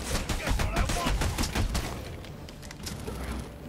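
Rapid bursts of gunfire in Batman: Arkham Origins crackle and boom for a couple of seconds, then settle into a softer rumble of background game noise.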